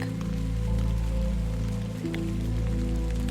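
Steady rain falls in a continuous, even patter with scattered louder drops, soft and close, accompanied by a low sustained tonal hum underneath.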